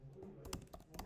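Quick keystrokes on a computer keyboard while entering text into a hospital booking system, a short close burst of light taps at a moderate level.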